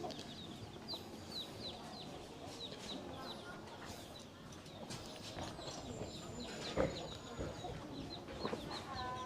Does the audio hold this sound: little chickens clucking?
yes